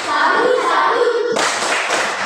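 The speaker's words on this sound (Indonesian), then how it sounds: "Ya, tepuk tangan untuk kelompok 3." A classroom group claps hands together for group three, dense fast clapping that fills the room, loud and close with children's voices mixed in.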